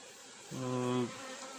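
Honey bees buzzing around a hive as brood is added to strengthen the colonies: a single close, steady buzz lasting about half a second over a quiet background, with no talk.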